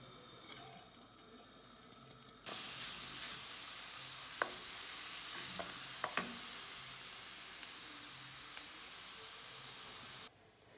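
Onions are fried in oil for artichoke-leaf stuffed cabbage rolls, and a loud, steady sizzle starts abruptly and runs for about eight seconds. A few faint clinks of stirring sound over it before it cuts off.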